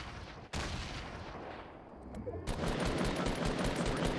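Rapid gunfire bursts from Fortnite Mobile, with one sharp onset followed by dense, sustained shooting that grows louder and fills the soundscape, with no clear talk over it.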